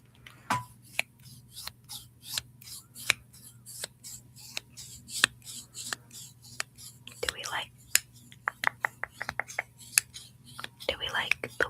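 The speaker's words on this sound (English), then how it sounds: "I have wooden scissors." Wooden scissors snip crisply in a quiet ASMR setting, giving a long run of sharp, close cuts in irregular bursts with soft whispering between them and a low steady hum underneath.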